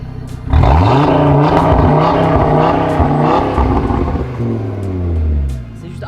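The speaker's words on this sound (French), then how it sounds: "Je vais accélérer en mode 1 et en mode 2" A close, loud Audi RS3 engine accelerating in drive mode 1, a deep rising rev that climbs and swells for several seconds, dips, then surges again, with no talking over it.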